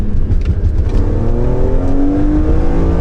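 A BMW Z4 M roadster's S54 engine revs up under acceleration, a loud, close rising growl that climbs steadily in pitch over a few seconds, with no voices.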